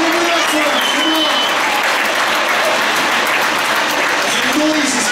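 Loud, continuous applause and cheering from a crowd at an RC helicopter demonstration at RC Hub, with an announcer's amplified voice calling out over the clapping throughout.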